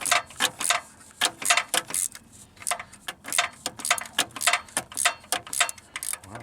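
A ratchet clicks in quick, uneven bursts as a nut is loosened during a Pontiac Aztek engine teardown, with sharp close-up ticks coming in rhythmic runs.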